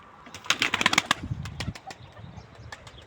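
Soft cooing and fluttery calls from a young male pigeon up close, a burst of busy sound early that trails off into quieter murmurs.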